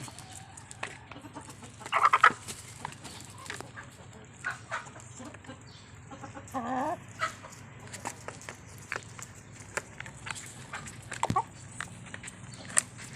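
Chickens cluck at feeding time, with several scattered clucks and short calls near and at middle distance over quiet farmyard background, and a few louder bursts.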